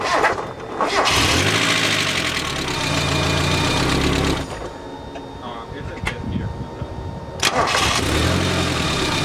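A Mazda Miata with a shortnose crank and a newly fitted water pump and timing kit cranks and catches, then idles roughly, stops, and cranks again. The engine is loud and close, and voices talk over parts of it.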